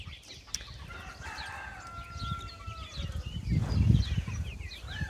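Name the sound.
rooster crowing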